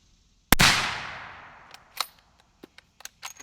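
A single sharp rifle shot from a Remington 783 fitted with a Liberty Mystic X suppressor cracks out loud and close, then decays into a short rumbling tail followed by a few faint clicks and ticks.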